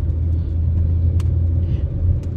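A car starts moving off along a street, giving a steady low engine rumble that stays at an even level throughout, with faint scattered clicks and no voices.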